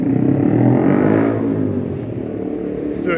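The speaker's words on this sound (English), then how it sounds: "Do excuse the motorbikes, they're very noisy." Noisy motorbikes pass by on a street near Kingston Station in the evening, a loud engine roar that peaks early and fades away as they move off.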